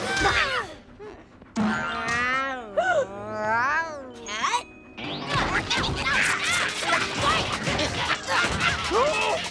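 A cartoon cat yowls and meows loudly in stretched, wavering cries amid crashes, thwacks and clattering smashes, with brief character voices mixed into the chaotic scene.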